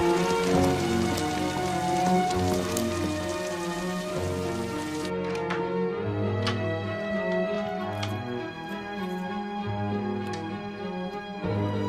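Falling rain, a steady dense patter of drops on surfaces continuing throughout, with a low melodic music bed underneath and no talk.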